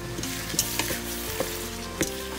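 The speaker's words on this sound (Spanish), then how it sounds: "Revolvemos todo muy bien." Ground beef picadillo with garlic sizzling in a pan, a steady close frying hiss broken by several soft clacks and scrapes of a spoon stirring, no voices.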